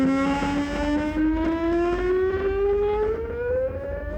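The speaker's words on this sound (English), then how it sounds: "depending on how fast the motor would be turning, it would change the pitch of the motor" A 3D printer stepper motor whines with a steady tonal hum that glides smoothly upward in pitch from low to high, continuous and close over a constant background rumble.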